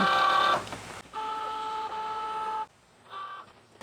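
Cricut Joy cutting machine loading a sticker sheet: a steady electronic motor whir with tonal hum runs in separate bursts, pausing briefly between them, close and fairly loud with no talking.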